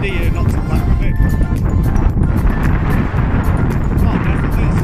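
Strong wind roars steadily and loudly across the microphone for the whole stretch while a small speed-wing style kite is ground-handled outdoors, with voices talking beneath the gusts.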